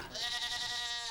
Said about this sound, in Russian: Наши козы очень смирные по отношению к человеку.